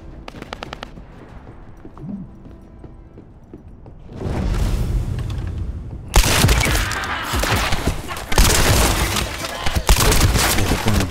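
Shotgun gunfire in the video game The First Descendant: scattered shots at first, then loud rapid bursts of firing that continue to the end.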